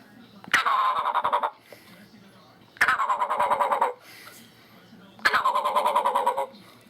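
Three loud, close turkey gobbles imitated by a hunter on a mouth call, each a rapid rattling burst lasting about a second, separated by short pauses.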